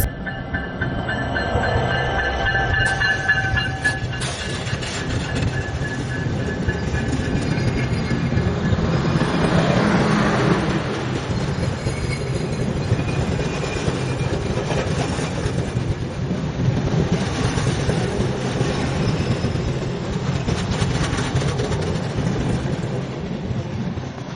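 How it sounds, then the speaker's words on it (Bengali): The South King Benapole Express from Benapole to Dhaka pulls into the suburban platform at Kamalapur station at night, a loud continuous rumble of wheels and carriages with rhythmic clacking and faint high squeals from the rails. "রাত 8টা 51 মিনিটে শহরতলি প্ল্যাটফর্মে প্রবেশ করছে বেনাপোল থেকে ছেড়ে আসা ঢাকা অভিমুখী সাউথ কিং বেনাপোল এক্সপ্রেস"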